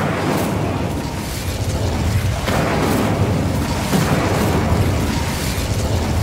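Repeated fiery blasts of the Incendio spell in Hogwarts Legacy roar and crackle in dense, booming bursts, one after another at close range, with no voices.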